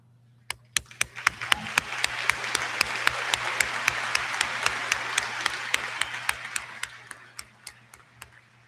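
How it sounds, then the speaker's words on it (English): A commencement crowd at a university graduation gives the Board of Trustees a round of applause: dense, steady clapping with distinct sharp claps standing out near, holding for several seconds before tapering off at the end. "Trustees, please stand so that we can recognize you with a round of applause."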